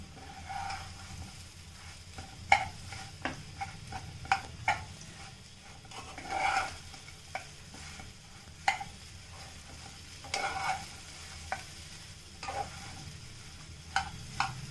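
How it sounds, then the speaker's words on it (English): Traditional home-style patoli mixture being stirred in a pan: a quiet, steady sizzle broken by scattered light scrapes and taps of the spoon against the pan. "See how it got cooked. Now let us stir."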